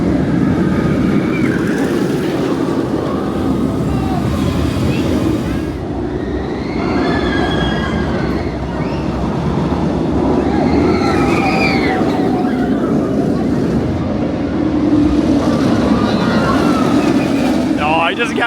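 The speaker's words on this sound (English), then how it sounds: "It doesn't get much better than some re-rides on Secret Weapon 3 here at Alton Towers" The Nemesis roller coaster (Secret Weapon 3) at Alton Towers thunders along its track with a loud, continuous roar of wheels and rattling cars. Screeching squeals rise and fall and riders scream throughout, all heard up close from on board.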